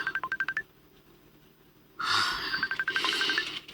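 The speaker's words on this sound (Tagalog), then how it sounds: "May pagtingang akong cellphone." A cellphone rings with a bright beeping electronic melody, played in two repeated bursts separated by a pause filled with a breathy, rustling noise.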